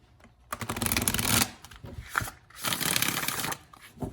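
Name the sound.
bridge shuffling a card deck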